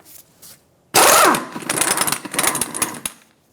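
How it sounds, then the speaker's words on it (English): An impact wrench spins off the axle nut of an Infiniti G35 with a 32mm socket: one loud, close mechanical burst with a buzzing, rattling whir that runs for about two seconds and then stops. "Using a 32mm socket, we're going to remove the axle nut."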